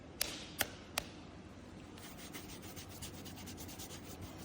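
Electric sander rubbing over bare skin, a faint steady abrasive hiss with a few sharp taps at the start, then a soft continuous scratchy texture.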